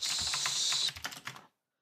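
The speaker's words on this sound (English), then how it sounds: "I keep typing the wrong commands." Rapid computer keyboard keystrokes while playing a Minecraft Skyblock server, a short burst of close clicks under a bright game tone that cuts off into silence.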